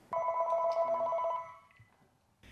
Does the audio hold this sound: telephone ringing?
yes